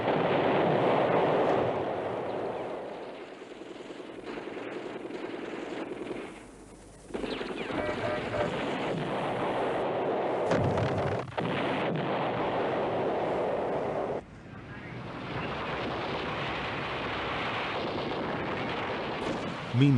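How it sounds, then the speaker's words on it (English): Archival combat sound from the Vietnam War battle of Hue, with naval ship guns shelling the city from offshore: continuous heavy booming and rumbling gunfire, with bursts and a couple of abrupt cuts, dense and loud throughout. "the ships fired thousands of shells into the city from 14 miles away"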